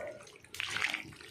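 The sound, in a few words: chicken skin boiling in a pot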